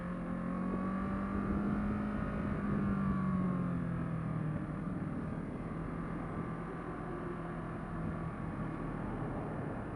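Steady road traffic hum from passing cars, with a rising engine note early on, continuous and moderately distant, with no talk.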